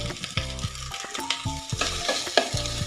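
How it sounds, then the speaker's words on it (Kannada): Onions with cinnamon and cloves frying in hot ghee for restaurant-style paneer butter masala: close, rhythmic scraping of a spoon in the pan over a steady sizzle, with no voices. "ಈಗ ಈ ಈರುಳ್ಳಿ ಸ್ವಲ್ಪ ಫ್ರೈ ಆಗ್ತಾ ಇದ್ದಾಗೆ"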